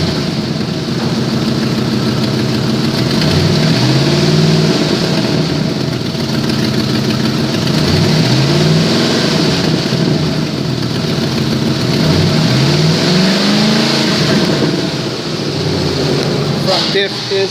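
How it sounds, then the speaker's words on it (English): A 2005 Ford F150 with about 228,000 miles runs steadily with an exhaust leak, giving a constant close engine drone with rising and falling tonal sweeps, while a person talks over it. "Does have an exhaust leak."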